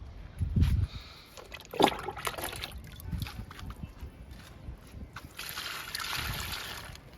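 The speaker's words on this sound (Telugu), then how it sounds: "వీటన్నిటికి కూడా లిక్విడ్ ఇచ్చేద్దాము" Liquid fertilizer is poured onto lily plants, tuberose and spider lilies growing in tubs, producing soft, uneven trickles and a few quiet splashes, with a longer gentle stream toward the end.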